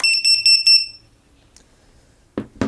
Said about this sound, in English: it starts the alarm routine, which is like this for 40 seconds